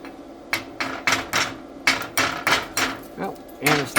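Slag is chipped off a dual shield flux core weld in a quick series of sharp metallic taps, about a dozen close strikes in an irregular rhythm.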